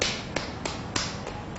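The bare soles of a seated person's feet clap together during a butterfly stretching exercise, giving three or four soft, dull slaps at a steady rhythm over a constant background hiss.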